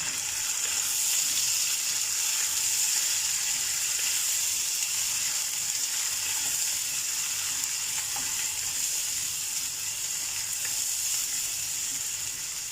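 Ginger garlic paste frying in a pan for chickpea curry, a steady close hissing sizzle with faint stirring scrapes that continues evenly throughout.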